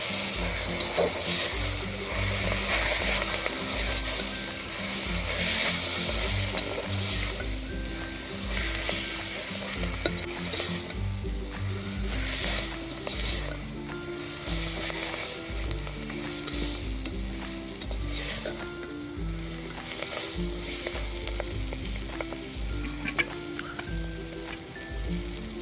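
Collard greens fry in a pan as turmeric and Kashmiri red chili are stirred in, producing a dense, continuous sizzle with occasional scrapes and clinks of stirring, close and loud throughout, no speech.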